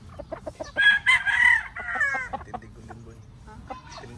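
Gamefowl roosters in a breeding area crow loudly in overlapping calls near the middle, with clucking and scattered fowl noises around them and faint talk underneath.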